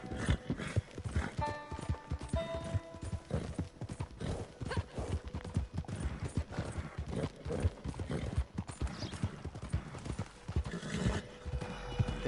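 Steady clip-clop of hooves trots along at a brisk rhythm in the video game Red Dead Redemption 2 Online, with a horse neighing briefly early on and again near the end.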